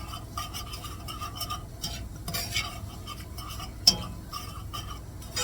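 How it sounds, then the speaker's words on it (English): A spoon stirs flour into beef and noodles in a pot with a soft, rhythmic scraping and swishing, gentle repeated strokes, one sharp clink of metal against the pot near the end, quiet and close. "Give that a stir for a while."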